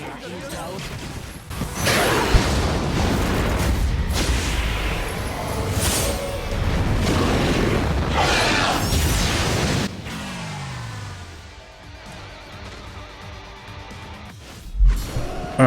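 Soul bomb attack animation in a Bleach mobile game: a run of loud crashing blasts, whooshes and booming impacts, with a descending sweep and quieter stretch near the end before a final hit.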